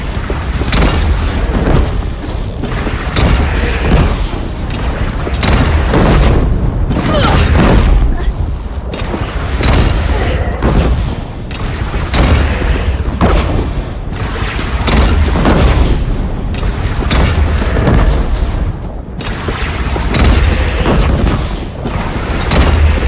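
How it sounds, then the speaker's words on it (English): Cannon fire in the video game Horizon Zero Dawn Remastered, a single cannon manned by a bandit gunner at a bridge; heavy, loud booms repeat at irregular intervals over a continuous rumble of battle noise. "They only have one cannon!"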